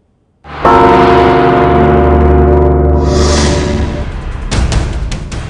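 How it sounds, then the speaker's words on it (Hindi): A large bell rings out loudly with rich sustained overtones, followed by a second clang near the end as the tone keeps resonating. "घंटी बजाइए"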